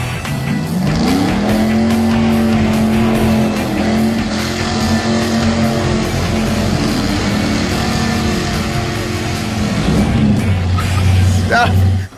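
A loud car engine roars and revs steadily throughout during a burnout on drag radials, with tire noise and a deeper idle near the end; voices are faintly present beneath.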